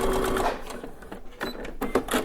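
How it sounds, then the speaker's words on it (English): A Baby Lock Brilliant sewing machine stitches a pleated fabric face mask, running in quick mechanical bursts with brief pauses between them, close and fairly loud. "I'm going to take this over to the sewing machine and stitch this out."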